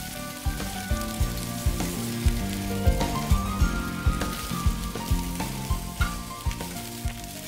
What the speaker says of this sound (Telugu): తర్వాత మనం ఒలిచిపెట్టుకున్న అరటికాయ తొక్కల్ని వేసుకోవాలి.